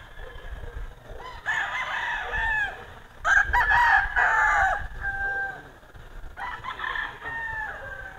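A rooster at a gamefarm crows loudly and close, three drawn-out calls separated by short pauses, with some faint background noise between them.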